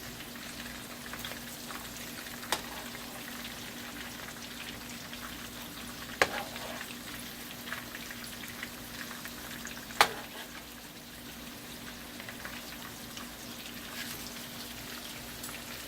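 Shrimp cakes fry in a pan over medium-low heat, giving a soft, steady sizzle with a couple of sharp clicks, quiet and continuous with no one talking.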